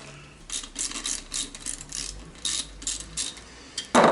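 Bolts are run into a Nissan R200 differential during a Nissan Skyline R33 GTST build, heard as a close, quiet series of short rhythmic ratcheting clicks, ending in a louder metallic clack.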